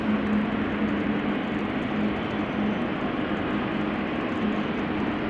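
A Play airline jet arriving at Amsterdam Schiphol Airport gives a steady broadband roar with a faint low hum running through it, distant and unchanging throughout, with no talking.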